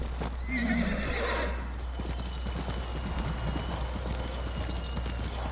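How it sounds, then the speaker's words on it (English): A horse in the video game Ghost of Tsushima lets out a loud whinny near the start, followed by steady clip-clop hooves galloping over the ground at a close, even pace. "Come on, horse."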